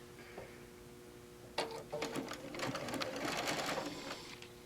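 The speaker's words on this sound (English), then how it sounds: "we're going to line up the notches on the side and we're going to sew the other side" A sewing machine stitches the side seam of a small fabric pincushion, starting after a quiet lull with a sudden clack, then running in a steady, rapid mechanical chatter close by.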